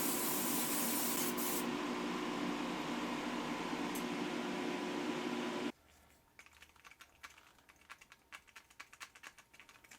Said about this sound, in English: Before I spray black candy on this, I am going to hit this green with a little bit of silver.